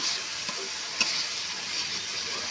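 Boiled jackfruit and potato are stir-fried in spices, a brief, even sizzling hiss with a single light knock of the spoon midway.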